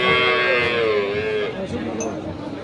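A cow moos loudly in one long, low, continuous call, close by, at a cattle market, with faint voices in the background.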